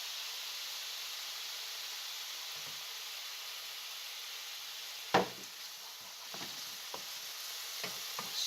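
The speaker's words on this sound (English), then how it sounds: "So they fry a little bit." Oyster mushrooms frying in oil over medium-low heat give a steady, even sizzle throughout, with a few soft stirring knocks and scrapes near the end.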